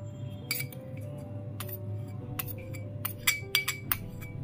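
A spoon stirs milk powder into cold milk in a glass, giving a run of bright, irregular clinks against the glass over a low steady hum, and the clinks grow quicker toward the end.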